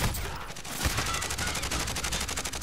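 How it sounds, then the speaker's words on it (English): Rapid gunfire fills a video game firefight, a dense, continuous stream of shots that stays fairly loud throughout the short stretch. "Do you see where they're shooting from?"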